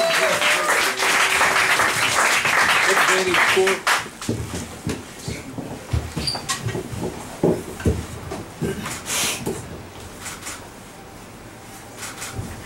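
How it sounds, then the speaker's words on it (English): Audience applause for poet Maya at a New York poetry slam championship, a loud burst of many hands that drops off sharply after a few seconds, leaving scattered claps, taps and room noise. "Clap for Maya, ladies and gentlemen"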